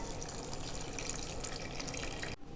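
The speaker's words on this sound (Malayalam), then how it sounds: "ഇനി പാല് ഞാൻ കുറച്ച് ഒഴിച്ചു കൊടുക്കുകയാണ്" Milk poured into a cake mixture in a bowl, a steady, quiet liquid stream running for a couple of seconds before cutting off abruptly.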